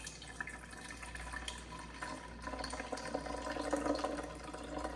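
Homemade almond milk pours from a jar through a small strainer into a container, making a faint, steady liquid trickle with light splashes and no speech.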